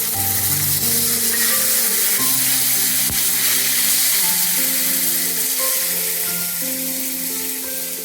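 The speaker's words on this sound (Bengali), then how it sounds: "এবার এর মধ্যে আমি আদা লঙ্কা আর টমেটো পিউরিটা দিয়ে দিচ্ছি" Ginger, chili and tomato puree sizzle and fry steadily in a hot pan with whole spices, a continuous close crackling hiss with no talking.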